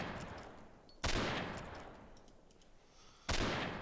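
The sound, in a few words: rifle shots in Forgotten Hope 2.6 video game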